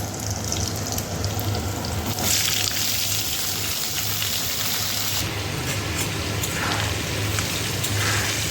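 Chopped onion frying in hot mustard oil in a kadai, giving a loud, steady sizzling hiss that runs the whole time over a low background hum.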